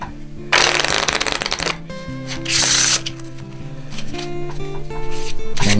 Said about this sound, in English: Let's give the cards another shuffle.